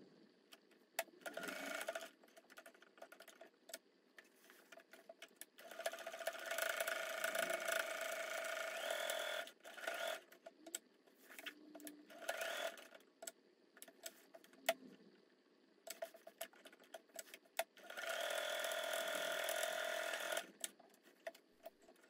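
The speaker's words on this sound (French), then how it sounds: "je vais monter sur la machine et je vais piquer tout mon rectangle à 1 centimètre" A sewing machine stitches around a rectangle of pocket lining in bursts of rapid, even clatter separated by quiet pauses, faint and close.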